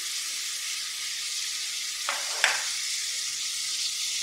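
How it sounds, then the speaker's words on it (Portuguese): Garlic cloves fry with meat in a pan for a soup, a steady bright hiss of frying with a couple of brief stirring scrapes midway. "Vamos fritar ele aqui também, o alho."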